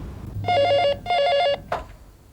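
A telephone rings indoors in two loud electronic trilling bursts separated by a short gap, followed by a brief click as the call is picked up.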